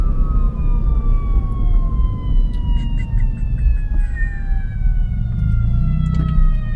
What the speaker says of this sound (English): Oh, it's an ambulance, okay.